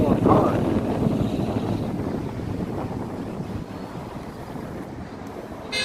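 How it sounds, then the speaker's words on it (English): Strong wind batters the microphone outdoors during a Mobula 6 HDZero FPV drone flight, a steady low roaring buffet that holds throughout at close range. "Jeez, the wind's blowing hard."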